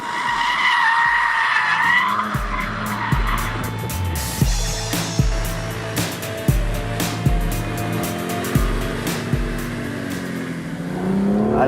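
BMW M2 CS, a manual rear-wheel-drive coupe, driven hard on a wet winter circuit at La Ferté-Gaucher, with loud engine revving, gear changes and hissing spray from the tyres as it slides through corners.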